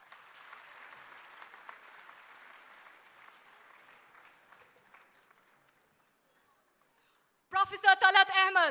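An audience applauds a guest at an interactive session with students in Srinagar, clapping that fades out over about five seconds, followed by silence and then someone speaking.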